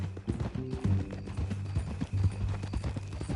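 Horse hooves clip-clopping at a walk in Red Dead Redemption 2, a steady rhythm of close, moderately loud hoofbeats with a brief low whinny near the start.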